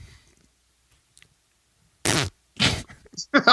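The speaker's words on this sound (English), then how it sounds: "Cut that fart out." A few short, loud fart-like bursts in quick succession after a stretch of near silence, sharp and close, the last ones choppy and sputtering.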